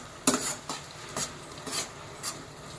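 A spoon scrapes through cauliflower curry in a pan in four or five short, soft strokes about half a second apart, over a quiet background.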